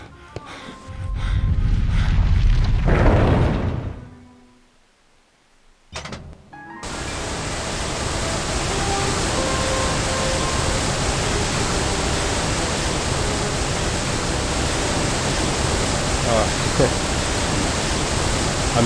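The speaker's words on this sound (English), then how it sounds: "This waterfall is redlining the uh, desktop audio uh, in OBS here." A loud, roaring waterfall in the video game Indiana Jones and the Emperor's Tomb fills the sound with dense, steady rushing noise, preceded by a louder surge and a short dip before it settles into a constant roar.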